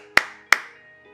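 Two sharp, loud hand claps ring out close by, about a third of a second apart, each followed by a short ringing decay, with no voices.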